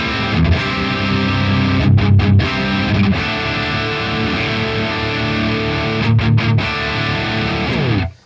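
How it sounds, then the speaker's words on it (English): Heavily distorted electric guitar on a vintage amp channel, chords ringing out loud and sustained, with brief choppy breaks, before cutting off sharply at the end. "It can do really aggressive, heavy tones, but also it's just really vibey"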